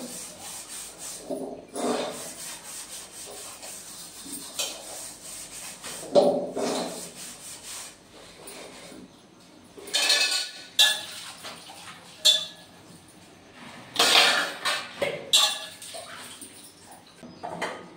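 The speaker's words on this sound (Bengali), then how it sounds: "চলো থালা বাটিগুলো মেজে নিই" Metal plates and bowls are scrubbed and washed by hand in a home kitchen. Uneven bursts of rubbing, scraping and clinking come up close, with quieter pauses between strokes.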